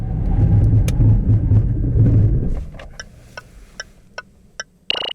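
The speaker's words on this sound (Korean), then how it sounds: "그렇다면 제동성도 먼저 알아볼까요?" A 2019 Range Rover Evoque D180 brakes hard during a stopping test: steady loud road and engine rumble for about two and a half seconds, then a fade to near quiet with several sharp clicks and ticks.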